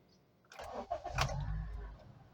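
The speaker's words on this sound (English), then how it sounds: "So let me start the car." A Honda CR-V engine cranks and catches, a short starter burst followed by the engine settling into a low, steady idle, heard close and fairly quiet.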